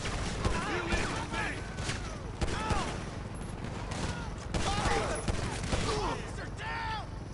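Gunfire in the video game GTA 5, with bursts of automatic shots and scattered booms repeating through the stretch, loud and busy, with game voices and effects layered over it.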